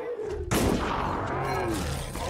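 Enemies explode in The Last Case of Benedict Fox with a sudden loud, booming blast that rolls into sustained rumbling noise.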